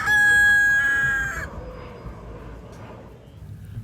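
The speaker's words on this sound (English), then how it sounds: "You see chickens on the sidewalk, chickens in the shops." A nearby rooster in Key West crows one long, loud call that cuts off abruptly, followed by quieter outdoor background noise and faint clucking.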